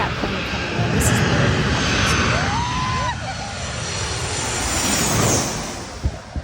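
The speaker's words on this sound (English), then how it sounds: "And here's that plane coming in." An airplane coming in to land at St. Martin, recorded from a boat by the seaside: a loud, steady engine roar that rises and falls as it passes close overhead, with people talking and wind noise around it.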